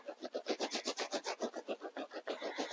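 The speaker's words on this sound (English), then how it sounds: "And then you're going to just rub it." Fabric being rubbed steadily onto wool felt with foam for transfer printing, a rhythmic back-and-forth scrubbing of about twenty quick close strokes with no voices.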